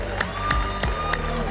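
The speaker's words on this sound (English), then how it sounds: "Give her a big round of applause." An audience claps and cheers as a woman is welcomed to the stage, a lively mix of applause, whoops and crowd noise, with a few sharp louder claps standing out and faint shouting on top.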